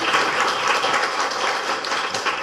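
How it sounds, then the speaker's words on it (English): Dense, steady audience applause after a presentation at an evening event, a continuous wash of many hands clapping at an even level throughout, with no voices on top. "Everybody give her a round of applause"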